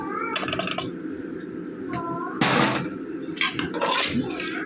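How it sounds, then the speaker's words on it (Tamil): Washed rice and its soaking water are poured into a pressure cooker, with splashing and trickling bursts, a few metallic knocks of the vessel, and a steady background hum. "தண்ணியோடு அப்படியே ஊற்றிக்கலாம்"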